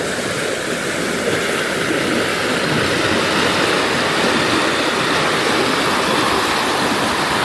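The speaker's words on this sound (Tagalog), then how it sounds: "Ikan ni sa Kawasan Falls" Kawasan Falls in Badian, Cebu, Philippines roars loudly and constantly, a dense, unbroken wash of falling water with no voices.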